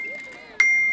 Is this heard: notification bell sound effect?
yes